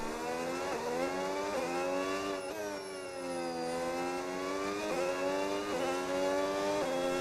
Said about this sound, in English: Engine sounds amazing.